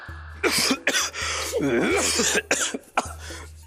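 A person coughs in several harsh bursts at close range, with short gaps between them and a low steady hum underneath.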